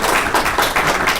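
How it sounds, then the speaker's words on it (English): A conference audience at an Ansible community session claps in a short, fairly loud burst of dense, overlapping applause. "yes, round of applause for the"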